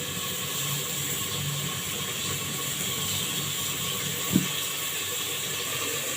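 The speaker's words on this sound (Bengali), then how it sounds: "এখানে ডাল বলক এসে পড়ছে" Lentil dal boils in a pot on the stove, giving a steady, soft bubbling hiss with one brief click partway through and no talking.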